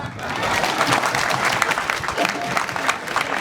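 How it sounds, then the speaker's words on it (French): A celebration audience applauds steadily, a dense, continuous clapping from a crowd, fairly close and loud throughout. "Ça demande des applaudissements."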